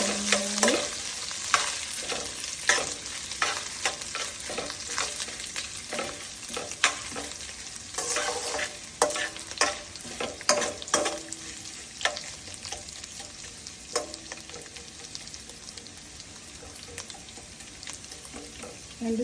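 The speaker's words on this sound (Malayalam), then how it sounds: "രണ്ട് സ്പൂണ് നെയ്യിൻ്റെ അകത്ത് തേങ്ങാക്കൊട്ടിട്ട് ഒന്ന് ഇളക്കി മൂപ്പിച്ചിട്ടാകുമ്പോൾ" Coconut bits stirred and roasted in ghee for Onam godambu payasam, a steady close sizzle broken by frequent scraping clicks of a spoon against the pan, with no voices.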